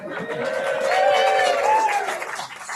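A forum audience at a Prince Rupert LNG meeting cheers and claps together, a dense wash of voices and applause that swells for a couple of seconds before tapering off.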